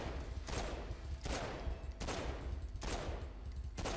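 Gunfire in the video game Gat Out Of Hell: six loud, broad shots spaced roughly every three-quarters of a second over a steady bed of game noise, with no talking.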